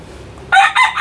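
A Melsims hatch gamefowl rooster crows loudly and close by in two short bursts, with no talking.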